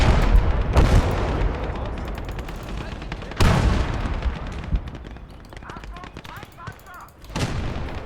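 Tank and artillery gunfire in the Legion of the Damned video game, with loud cannon blasts near 1, 3.4 and 7.4 seconds over a steady rumble of distant gunfire and battle noise, with a voice speaking over the din.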